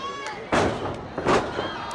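A wrestler is slammed to the mat by a suplex at a Saturday morning wrestling show, a loud thudding impact followed by a second heavy thump amid crowd noise.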